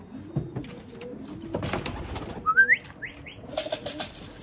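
Racing pigeons arriving home from a race, with a few short cooing calls rising near the middle, around nearby movement and low background noise.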